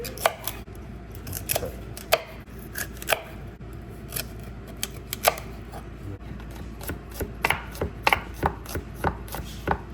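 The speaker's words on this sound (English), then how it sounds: "So for the asparagus, I'm gonna cut the ends off." Asparagus ends being chopped off with a knife on a cutting board in a home kitchen, a series of sharp, close cuts in an irregular rhythm with no talking.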